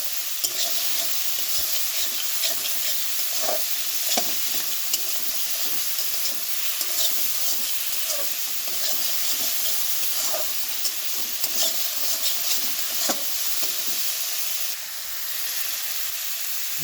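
Spices and salt sauté in a pan for a taro-stolon curry, giving a continuous close sizzle and hiss broken by frequent scraping, stirring knocks throughout.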